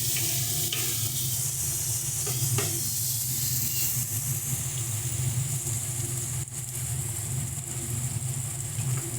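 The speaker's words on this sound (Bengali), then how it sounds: "সমস্ত মশলাগুলোকে ভালো করে মিশিয়ে নেব।" Spices being stirred into eggplant masala frying in a pan, with Kashmiri red chilli powder among them: a steady close sizzle runs throughout, broken by a few soft scrapes of the spoon, with no talking.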